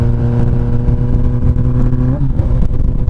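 Honda CB 1000R motorcycle with a straight-pipe exhaust, loud and close, its engine holding a rough steady idle before a quick blip of the throttle and a settle back down.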